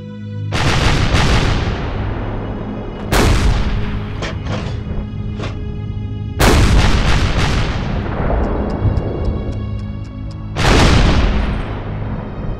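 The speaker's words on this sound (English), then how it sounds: "the artillery division of the 14th Army opens intensive fire against Moldovan positions" A Soviet 14th Army artillery division fires intensively on positions in wartime: four heavy booms, each with a long rolling decay, plus a few sharper distant cracks in between, all loud and with no talk.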